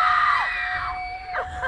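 A crowd at a pig race at the Ventura County Fair screams and yells loudly, with shrill overlapping voices holding steady throughout.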